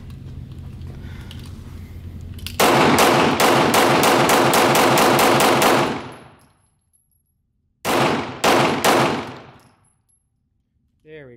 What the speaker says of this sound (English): We'll just send some more rounds through here.